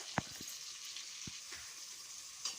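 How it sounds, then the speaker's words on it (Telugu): Vegetables frying in a pan for curry, a soft continuous sizzle with a few sharp clinks of a spoon against the pan, quiet and without voices. "ఇప్పుడు మనం వేసుకున్న వెజిటేబుల్స్ మొత్తం ఫ్రై అయినాయి కదా"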